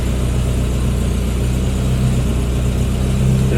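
A Morris Minor car engine runs steadily close by, a low rumbling idle with a slight rise in revs near the end.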